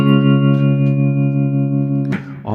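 Electric guitar playing a sustained chord with reverb and a light tremolo wobble, in the style of a classic rock song, ringing steadily and loud before a fresh strum near the end.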